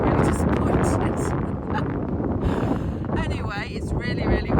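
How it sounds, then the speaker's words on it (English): Strong wind buffets the microphone in loud, rumbling gusts that swamp the recording from start to finish, with a voice briefly audible through the roar near the end. "it's really windy"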